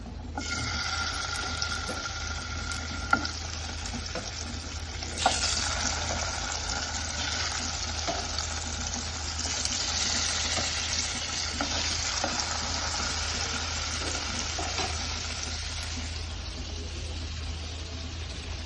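Vanjaram fish frying in hot oil in a pan, a continuous close sizzle and crackle holding steady throughout, with a couple of brief louder pops near the start.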